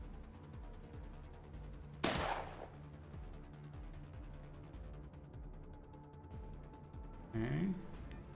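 A shotgun fires in the video game Discovery: Colony Ship: two loud, sharp blasts stand out from a low, rhythmic background hum, the first early and the second near the end.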